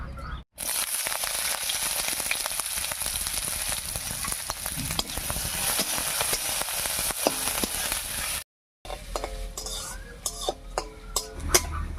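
Chopped onion frying in hot mustard oil in a pan for dal tarka, a loud continuous sizzle with brief stirring clinks and utensil taps near the end, close by.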